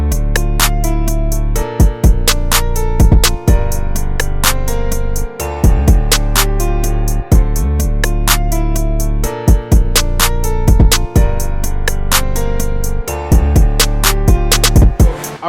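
A deep sustained synth bass plays a repeating line under sharp percussive hits, loud and continuous with a steady rhythmic pattern.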